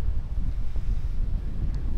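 Steady low wind buffets the microphone in a continuous rumble, with no voices present.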